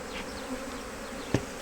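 Honeybees buzz thickly around an opened hive, a steady near drone with occasional bees flying by and one short knock of hive equipment partway through.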